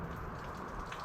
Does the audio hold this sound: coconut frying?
no